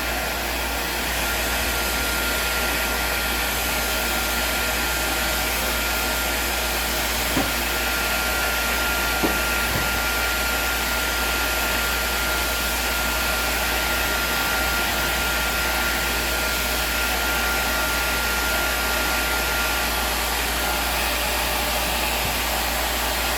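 A hair blower running continuously while drying hair during a rebond and color treatment, a loud, even whooshing hum with a low motor drone and a couple of faint clicks, with no talk over it.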